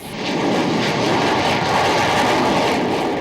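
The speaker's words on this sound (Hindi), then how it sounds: "ये ललकार है भारतीय वायुसेना की सबसे मजबूत विमान सुखोई 30 MKI की" Sustained roar of an Indian Air Force Sukhoi Su-30 MKI fighter jet's engines, loud and close, a dense broadband blast that rises quickly and holds steady without talk.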